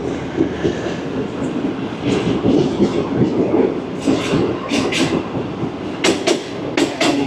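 A Greenline passenger train rolls through Malir Halt station in Karachi, heard from aboard as a continuous rumble with rhythmic wheel clatter and occasional sharp metallic squeals and clanks, loud and close.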